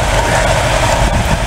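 Engines run with a steady, loud low rumble on a snowy first day of spring, holding an even level throughout with no voices.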